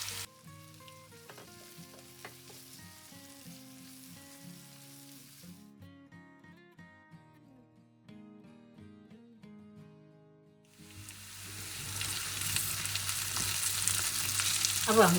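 Green chillies fry with onion and garlic in a pan for veg chow mein, a bright, rising sizzle that swells in over the last few seconds after a stretch of soft music.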